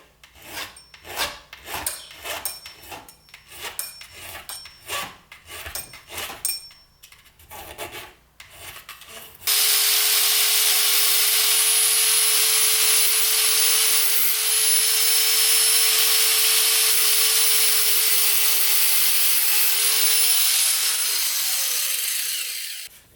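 A burr is worked off a metal chainsaw part. First comes a run of rhythmic rasping strokes, then a power grinder whines in loudly and holds a steady, harsh hiss for over ten seconds before winding down.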